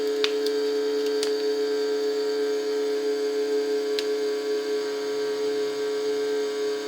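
CALMDO vacuum sealer machine running with a steady electric hum and a few faint clicks, loud and continuous, no talk.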